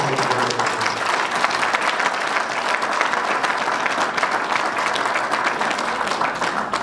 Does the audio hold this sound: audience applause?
yes